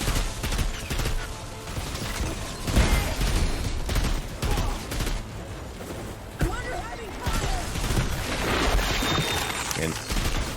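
Shotgun fire in the Outriders video game comes as repeated loud blasts amid mechanical game sounds, while someone talks over the action.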